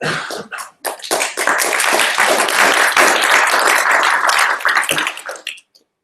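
An audience at an Atlanta FileMaker Developers Group meeting claps loudly and steadily for about five seconds. The applause is thin at first, builds quickly and then tapers off abruptly into silence.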